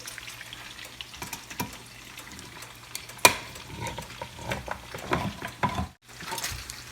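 Bread and potatoes frying together in a pan for a hot breakfast sandwich, a soft steady sizzle with occasional louder clinks and stirring scrapes, fairly quiet and close, no talking.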